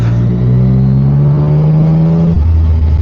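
Motorbike engine during a weekend ride to Morong, Bataan, humming loud and close with a steady low drone whose pitch rises gradually, then drops sharply near the end, with no talk.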